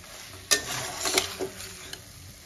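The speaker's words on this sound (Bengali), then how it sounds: "এবার আমি ভেজে রাখা ডিম আর আলুটা দিয়ে একটু কষিয়ে নেবো মশলার সঙ্গে।" Fried eggs and potatoes are stirred with Everest biryani masala in a pan. A brief soft sizzle carries a few distinct scrapes and clinks of a spoon against the cookware, and no one speaks.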